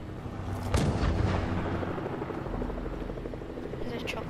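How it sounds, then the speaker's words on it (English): A helicopter whirs in a shooter video game, a low rumbling drone mixed with sharp bursts of gunfire, heard up close under a player's talk. "There's a chopper."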